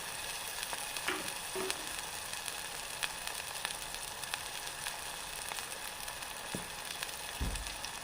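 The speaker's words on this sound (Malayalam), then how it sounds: "നന്നായിട്ട് അതിനകത്ത് കിടന്ന് എണ്ണയ്ക്കകത്ത് കിടന്ന് നല്ലോണം വെന്ത് നല്ല ടേസ്റ്റ് ആയിരിക്കും" Small onions fry steadily in hot oil in a pan, a continuous close crackling sizzle with a few soft stirring knocks and scrapes near the end.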